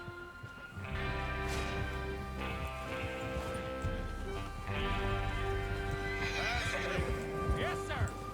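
Horses neigh and whinny loudly in Red Dead Redemption 2 while hooves clip-clop steadily underneath, with low rumbling and other voices mixed in the background.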